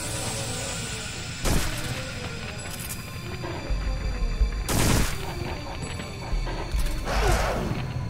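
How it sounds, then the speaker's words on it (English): Enemy gunfire in the PS2 shooter Extermination: several sharp, loud shots burst out at irregular intervals over a low ambient game backdrop, with no talking. "he managed to get the shot off"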